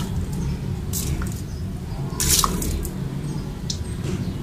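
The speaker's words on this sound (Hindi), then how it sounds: "दे दिया है एलोवेरा को भी पानी।" Water poured onto an aloe vera plant in a pot of soil, giving soft splashes and drips with a few brighter splatters over a low background hum.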